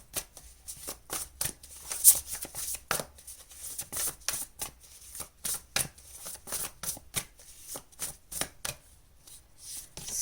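Tarot cards being shuffled by hand in rapid, irregular bursts of crisp riffling and slapping, close and fairly quiet, with no talking.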